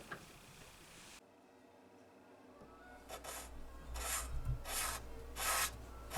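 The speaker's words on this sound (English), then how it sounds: "we'll get started with this StewMac Deluxe Scraper. It makes real quick work of these cracks" A StewMac Deluxe Scraper carves at cracks on a 1993 Taylor guitar, making soft, close scraping and rasping strokes that come in several short bursts and build in strength toward the end.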